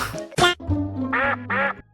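Loud, nearby duck quacks, several in quick succession, nasal and distinct with brief gaps between them.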